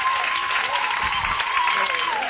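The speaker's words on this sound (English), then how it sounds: "Give a round of applause to Dwight Fleischer, if you please" A large audience applauds a speaker, a dense, even wash of clapping and crowd noise that holds steady throughout, with a faint sustained tone running beneath.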